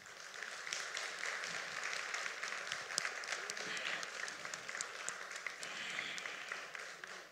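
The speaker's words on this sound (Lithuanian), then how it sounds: "Tad garsus aplodismentai Vyteniui ir vaikai, žinoma, jūsų padėka jam." An audience at a children's dance competition round claps steadily throughout, a dense, continuous wash of applause heard from within the hall at moderate volume.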